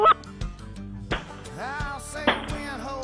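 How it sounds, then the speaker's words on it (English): Ducks calling during a goose hunt in North Dakota, a series of loud honking and squawking calls close by, with abrupt gunshot bangs and clatter between them. "Here come the ducks."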